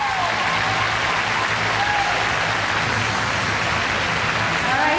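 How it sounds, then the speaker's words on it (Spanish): A large crowd at the Miss World 2005 pageant roars with continuous, dense applause, a thick wash of clapping and cheering that stays loud and unbroken throughout. "queremos escuchar sus aplausos"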